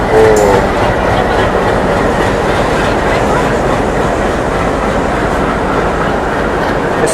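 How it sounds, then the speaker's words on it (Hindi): The Delhi–Dehradun Shatabdi Express, hauled by a WDM3 diesel locomotive, picks up speed with a loud continuous rumble and rattle of the carriages. A short horn note sounds near the start, and no voices are heard. "एक्सेलरेशन बहुत गजब है यार इस ट्रेन में"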